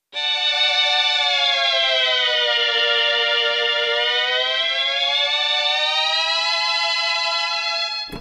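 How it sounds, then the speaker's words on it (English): Mellotron on its highest pitch setting holds a bright, sustained chord whose pitch drifts gently down and back up, loud and continuous for about eight seconds, alone without talk. "Now you really hear it on the highest setting."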